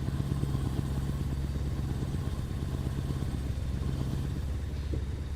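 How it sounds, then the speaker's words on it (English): A Scania V8 8x4 truck engine in American Truck Simulator drones at a steady low idle-like rumble, constant and moderately loud, heard from inside the cab with a window open. "Gonna roll down the window so we can hear the engine when we're inside."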